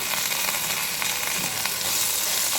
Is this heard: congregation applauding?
no